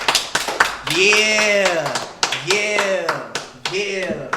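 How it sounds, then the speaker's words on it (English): A small podcast crowd greets a rapper with scattered sharp claps mixed with loud, drawn-out whoops and cheering voices, close to the microphone. "Can we get an applause, please?"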